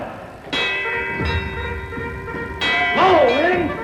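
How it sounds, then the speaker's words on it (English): An alarm bell clangs in a staged Shakespeare production in an old theater recording, with two sharp struck rings that hang and ring on, and voices and music sounding beneath. "Ring the alarm bell!"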